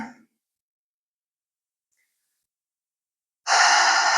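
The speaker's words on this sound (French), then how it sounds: "Quelques respirations ici, vous laissez le souffle s'installer" A single long, breathy exhale close to the microphone follows a few seconds of silence.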